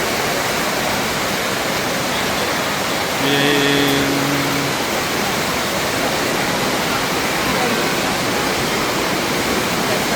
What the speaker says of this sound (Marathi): पाऊस खूपच सुरू झाला आहे जोरात